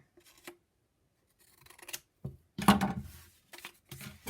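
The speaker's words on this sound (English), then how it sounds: "I'm just going to trim off this little edge here." Scissors snip and trim the edge of a paper letter L, several short crisp cuts in uneven bursts with quiet pauses between, close by.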